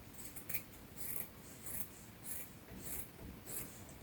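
Scissors cut through fabric for a high-low circle top in a quiet room, a faint rhythmic series of six or seven crisp snips spaced about half a second apart, close and soft.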